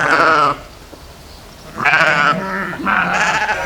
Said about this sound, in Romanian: Văd că cineva aici ține oi.